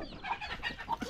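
Native chickens on a small farm give soft, repeated clucks and short calls in a close, busy flock, with no voices over them.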